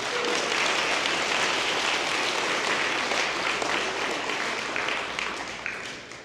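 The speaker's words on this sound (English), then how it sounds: "So give them a round of applause." Audience applause at a college commencement ceremony for the first graduating class, steady dense clapping throughout, moderately loud and fading toward the end.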